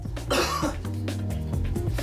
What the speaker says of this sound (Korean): 털 때문에 생기는 잦은 기침은 물론